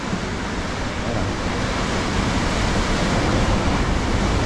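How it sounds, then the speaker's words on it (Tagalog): Strong wind roars across an exposed mountain summit, a steady broadband rush buffeting the microphone without letup, loud and close with no voices. "Malakas yung hangin."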